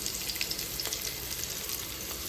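Sliced onions frying in hot oil for mutton biryani hiss in a steady, close sizzle with faint spattering pops throughout.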